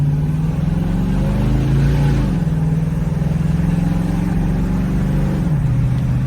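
A 1966 Ford Mustang with a 289 small-block V8 and headers pulls hard on the road, its engine a steady, loud, throaty drone with two brief dips in pitch as it shifts or eases off.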